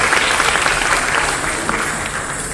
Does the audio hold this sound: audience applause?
yes